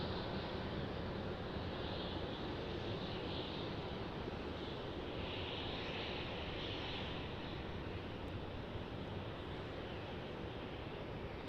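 A JetBlue airliner taxiing or taking off at Raleigh-Durham International Airport, heard as a faint, steady, distant broadband roar that holds evenly throughout with no voices.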